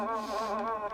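Biting bugs or beetles buzz nearby in a continuous, wavering insect drone that stays close and fairly loud for the full second.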